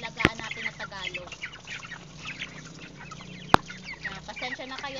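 A flock of 45-day-old broiler chickens clucks and chatters close by while pecking, in a busy, continuous murmur with a few sharp clicks and knocks.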